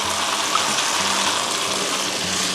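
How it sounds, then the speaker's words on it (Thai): Coconut milk poured into a hot wok for a pink rice-noodle sauce, a loud close rush and gurgle of liquid hitting the pan with a steady hiss, no voices. "รอให้กระทะร้อนนิดนึงนะคะ คุณผู้ชม แล้วเราก็เอา กะทิค่ะใส่ลงไป"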